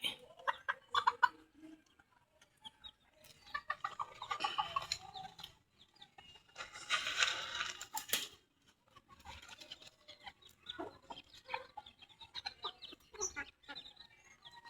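Chickens and roosters clucking and squawking in an outdoor yard in the late afternoon, scattered and moderately distant, with occasional flutters and faint voices in the background.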